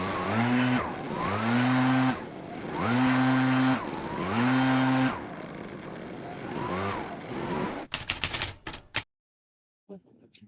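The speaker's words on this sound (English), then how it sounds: "that truck just pulled up" A truck pulls up with a loud engine that surges and falls in repeated waves. A brief rattling clatter follows before the sound cuts to near silence.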